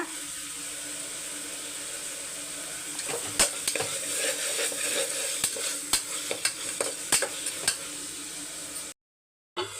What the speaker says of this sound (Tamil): உப்பு சேர்த்து வதக்கி விடுங்க